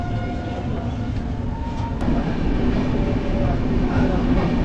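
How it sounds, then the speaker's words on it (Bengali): A train picks up speed just after pulling out of Ambika Kalna station on a Kolkata-to-Assam route, giving a steady, loud, close rumble with low droning and faint rattling throughout. "অম্বিকা কালনা ছেড়ে এইমাত্র ট্রেনটা বেরোলো।"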